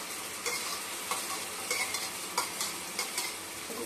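Curd being stirred into hot oil for a mango pickle, with soft scraping stirs and a low sizzle recurring at an irregular pace, close and fairly quiet, with no voices.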